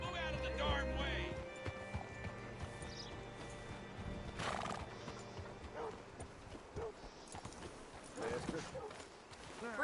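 Horse hooves clip-clop at close range in the video game Red Dead Redemption 2, alongside a whinny and snorting, with voices talking over the busy, layered scene.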